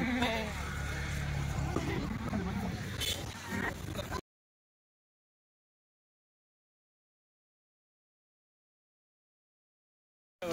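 Kathiawadi goats bleating among a herd at a livestock sale, several overlapping calls mixed with people talking nearby, lasting about four seconds before the sound cuts to silence.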